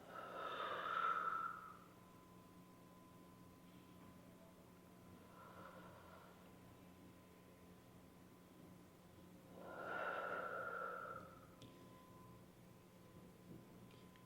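Slow deep breaths taken during a stretch for front rack position: two long, audible exhales about eight seconds apart, with a fainter breath between them, over a steady quiet background hum.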